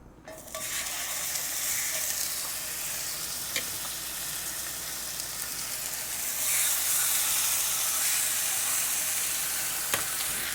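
Pork chops sizzling in a hot pan over medium-high heat, a steady, loud crackling hiss that carries on without a break, with a few small pops and one surge partway through.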